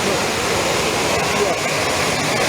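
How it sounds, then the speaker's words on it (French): The long waterfall of the Métier river cascading, a loud continuous broadband roar of falling water that stays even and dense throughout. "Les flots de la longue chute de la Métier qui tombe en cascade"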